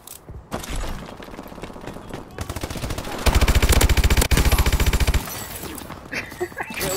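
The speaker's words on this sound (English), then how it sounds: "I shot all of them but killed one" Automatic gunfire in a Call of Duty match, with scattered shots giving way to a long, fast, evenly paced burst that is loud and close, then tapering off under background voices.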